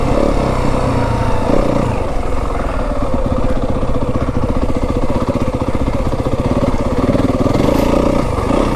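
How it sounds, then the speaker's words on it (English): A Yamaha WR 250F dirt bike engine on a single-track trail in Kelly Canyon, droning steadily up close at a slow, even pace with rough mechanical clatter throughout and no talk. "I can hear Mike riding right up my rear end back there."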